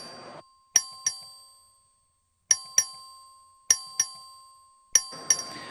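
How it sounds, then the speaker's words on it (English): The Texas House chamber's vote bell rings in paired bright metallic strikes, repeated several times with quiet gaps, each chime ringing out and decaying, loud and clear over faint room murmur. "The clerk will ring the bell."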